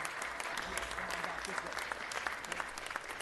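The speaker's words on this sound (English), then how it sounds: "One more round of applause." Applause at a city council meeting: a modest crowd claps steadily and fairly close, with some voices speaking beneath the clapping.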